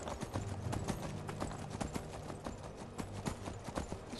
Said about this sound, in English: this traveling by horse, definitely faster than on foot